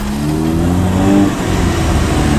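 A Honda 1.6 ies car engine revving hard, a loud close continuous roar that climbs and falls in pitch with no talk over it.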